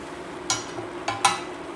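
Chorizo and fish stew stirred in a pan while it warms through, three brief scraping strokes, one early and two close together later, over a low steady background.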